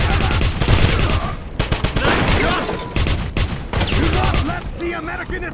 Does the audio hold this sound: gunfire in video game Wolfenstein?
yes